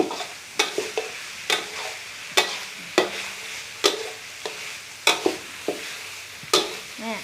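Minced pork being stir-fried for khua kling in a pan as it dries out, with sharp repeated spatula scrapes and clacks at a steady stirring rhythm over a soft, continuous sizzle, close and fairly loud.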